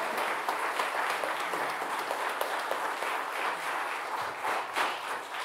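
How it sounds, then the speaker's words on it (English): Steady audience applause fills the room after a Christmas musical, a dense, even wash of many hands clapping without a break, no voices on top. "Give them another round of applause"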